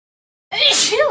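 A single sharp sneeze bursts out after a moment of silence in a staff meeting room, close and loud.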